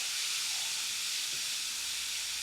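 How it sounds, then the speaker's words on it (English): A homemade bath bomb from a store-bought kit fizzes in water, giving a steady, faint hiss that runs unbroken throughout with no voices. "I don't know if you can hear it fizzing."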